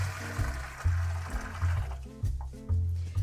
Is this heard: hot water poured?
yes